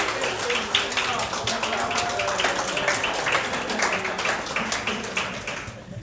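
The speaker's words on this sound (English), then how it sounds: "Alumni, please stand for a well-deserved round of applause." An audience at a university commencement ceremony claps for standing alumni, with dense, steady applause running throughout and talk mixed in.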